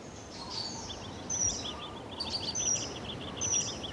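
Seychelles paradise flycatcher calls on La Digue, a few short bright chirps and whistled notes repeated at intervals over a steady hushed forest background, moderately distant.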